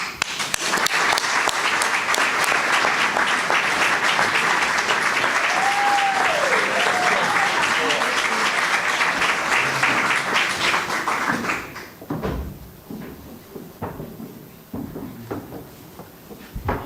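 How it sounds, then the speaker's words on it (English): An evening awards gala audience applauds the winners with loud, sustained, dense clapping for about eleven seconds, then it drops off into scattered claps and murmuring. "We applaud Cameron and all of the award winners this evening"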